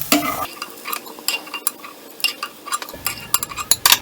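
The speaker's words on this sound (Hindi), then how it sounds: "इसी तरह बाकी की अरबी भी फ्राई कर लेंगे" Taro pieces shallow-fry in oil in a pan, a busy crackling sizzle with frequent clinks and scrapes of a utensil, close and fairly loud, no speech.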